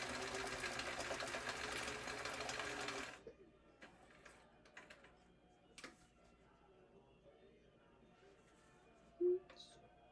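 A sewing machine stitching a leather wallet pocket, a steady close whir for about three seconds that stops abruptly, followed by quiet handling clicks and a brief tone.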